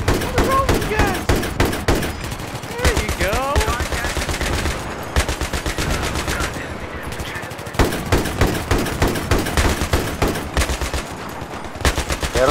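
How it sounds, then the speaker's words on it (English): Rapid, loud bursts of shotgun and other gunfire from Battlefield 3 multiplayer fill the whole stretch, volleys crowding together with only brief gaps. "these guys are ridiculous using shotguns"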